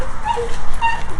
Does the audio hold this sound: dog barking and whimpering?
yes